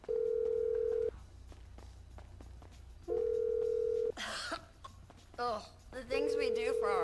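An unanswered phone call ringing in a video game, heard as three steady, sustained ring tones separated by pauses, with someone talking in the gaps between them.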